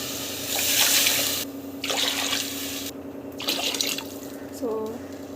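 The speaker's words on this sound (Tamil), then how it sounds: "2 டம்ளர் தண்ணி ஊற்றுறோம்." Two tumblers of water splash and pour in several short bursts into a pot of ghee rice, with a steady background hum and a brief voice near the end.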